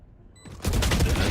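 In the video game Valorant, a rapid burst of gunfire erupts after a brief quiet moment, sharp repeated shots stacking into a dense volley that carries to the end.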